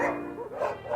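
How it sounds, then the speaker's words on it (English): Dogs at the Red Pine Shelter in Russia bark and yip in a dense, continuous chorus, close and loud, with no voices over them. "These are the lucky dogs of the Red Pine Shelter."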